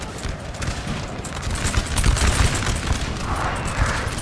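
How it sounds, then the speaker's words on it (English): Artillery fire and a cavalry battle in Napoleon: Total War, with dense rolling booms, crackling musketry and thudding hooves merging into a loud, continuous battle din. "Oh, artillery just absolutely brutalizing this cavalry line."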